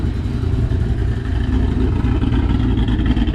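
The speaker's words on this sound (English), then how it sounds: "You can actually hear the blower sucking into the throttle body right there." Idling cammed Ford Mustang GT500 with a supercharger, heard from the front as a steady low engine rumble with faint blower intake whoosh into the throttle body, continuous and close.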